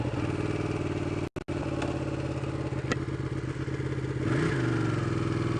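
Ducati motorcycle being ridden, a loud, steady engine drone heard close for several seconds, broken by a couple of sharp clicks and rising slightly near the end as the revs build.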